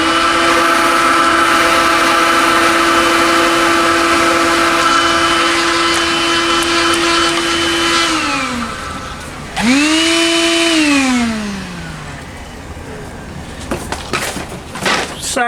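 A Makita stick vacuum cleaner runs on high with a steady, loud motor whine and suction rush, then winds down, restarts with a rising whir and spins down again.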